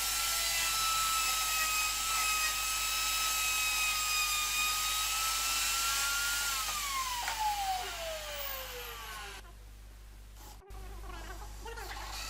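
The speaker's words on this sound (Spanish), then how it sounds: "Con una corona de 50 extraigo el interior de las piezas." A drill fitted with a 50 mm hole saw bores out the centre of wooden pieces, its steady high motor whine sliding downward in pitch as the cut slows, then dropping away near the end.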